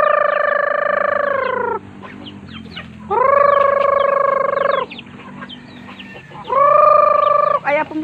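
Backyard chickens raised for tinola, with roosters crowing loudly and up close three times in long drawn-out calls, separated by quieter clucking and farmyard murmur.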